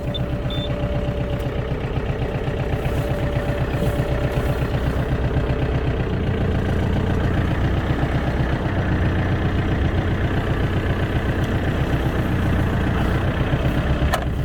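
A Mitsubishi MT24D Japanese mini tractor's diesel engine idles steadily with a low, even rumble that holds at the same level throughout, close by, with no talking.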